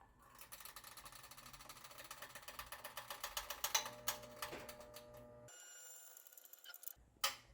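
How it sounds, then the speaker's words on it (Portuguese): An Agratto FMA-02 single-burner electric stove makes a fast run of faint ticking and clicking that grows louder into sharp snaps, pauses in near silence, then ends with one last click. "toda vez que ela entra nesse ciclo de liga e desliga, o fogão faz esses barulhos de estalo"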